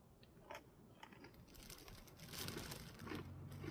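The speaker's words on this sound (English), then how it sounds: "I'm going to eat this little bit of granola" Close, crisp crunching and chewing of dry, brittle granola at a campsite, growing louder toward the end, with no talking.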